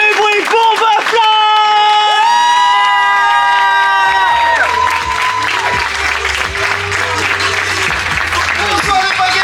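A live crowd at a French stage show cheers, whoops and applauds loudly throughout, with shouting voices rising over the continuous clapping.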